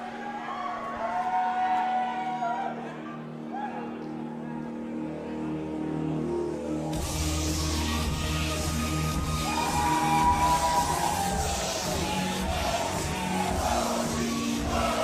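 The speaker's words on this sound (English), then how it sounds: "A great ovation from the fans in attendance." A packed wrestling crowd at a GCW Spring Break show fills the hall with sustained cheering and whoops, swelling louder partway through and rolling on steadily as one dense, reverberant roar.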